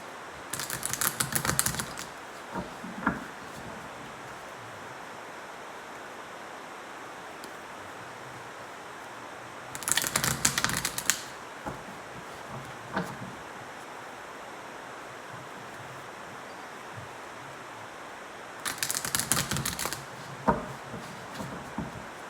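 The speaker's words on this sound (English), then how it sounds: "I'm going to shuffle the cards" Tarot cards shuffled in three separate bursts, each a quick riffling flutter about a second long, with quiet hiss in between.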